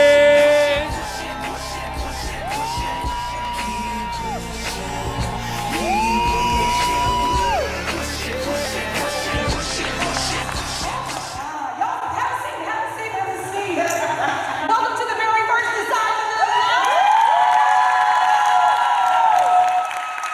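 A live event crowd yells, whoops and cheers with applause, loud and sustained throughout, while music plays under the noise and a host calls for everyone to stand and greet the host, Jessica Larche.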